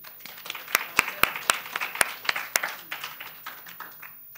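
Audience applause for a student team presenting at a nanoscience lab summer institute: a modest group clapping, with sharp individual claps standing out early and the sound thinning and fading toward the end.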